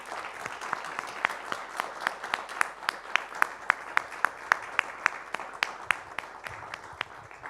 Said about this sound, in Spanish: Un fuerte aplauso y muchas gracias.